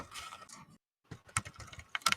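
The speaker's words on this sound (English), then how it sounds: "The sound of your clicking is louder than you are, Zanuck." Someone types on a computer keyboard in quick, quiet bursts of clicks. A brief silent gap breaks the run before the tapping resumes, sharper and louder.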